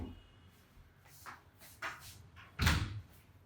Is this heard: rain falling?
no